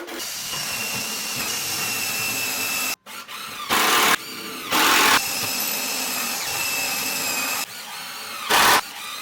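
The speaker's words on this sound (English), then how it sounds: "it just makes it easier to pre-drill and mount the screws" A power drill driving screws into wood for a raised garden bed whirs steadily with a hissing, buzzing motor, broken by a brief pause and several short louder bursts as it bites in.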